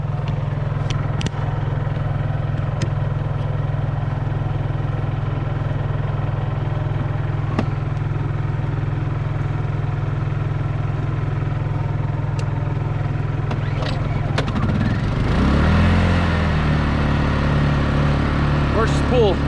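A Honda generator runs steadily at a winter tent campsite with camp hookups, a continuous low hum that swells and shifts near the end as the load or speed changes, with no talk over it.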